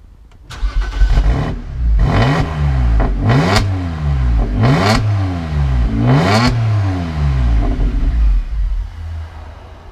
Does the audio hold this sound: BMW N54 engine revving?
yes